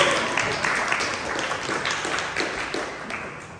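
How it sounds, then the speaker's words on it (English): A classroom of children in a kids' ministry training session claps for a student leader, a steady burst of applause lasting a few seconds and fading slightly at the end. "Round of applause for our student leader"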